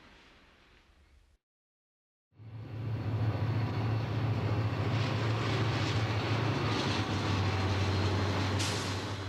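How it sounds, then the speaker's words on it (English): A westbound Union Pacific freight train rolls through the desert between Daggett and Barstow, a loud, steady rumble with a deep low drone that swells in suddenly after a brief silence and holds close and heavy to the end. "A westbound UP train is between Daggett and Santa Fe's huge yard in Barstow."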